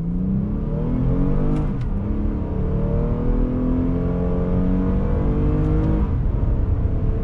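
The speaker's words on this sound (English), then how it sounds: "Give it some throttle." A 2021 Toyota Highlander XSE AWD engine pulls hard under throttle, a loud, steady droning roar that climbs through smooth upshifts, heard from inside the cabin with no talking.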